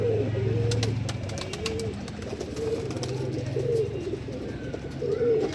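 Prized pigeons coo in repeated soft, throaty rolling phrases close by, several calls overlapping in an uneven rhythm, with faint clicks and light background noise.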